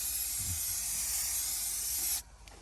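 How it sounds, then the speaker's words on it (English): 3M spray adhesive hisses from the can onto pieces of patch material for a mobile home underbelly: a loud, steady, close-up spray lasting about two seconds, then cutting off abruptly to quiet. "Sprayed both pieces."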